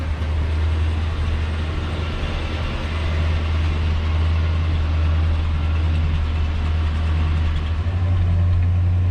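A 1966 Ford Galaxie 500 V8 idles steadily while warming up, a loud, close, even low rumble that holds for several seconds with a slight rise in pitch near the end.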